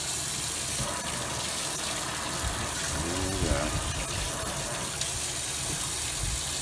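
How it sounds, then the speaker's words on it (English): Steady rushing of water from a tap, a continuous broadband hiss that runs the whole time at moderate level. "Of course, we got running water."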